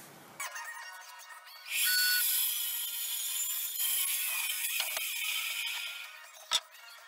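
A wooden bench back piece for a wedding bench is trimmed down to width with a power tool. A thin, high cutting whine starts after a brief knock, holds steady for several seconds, then stops with a sharp click.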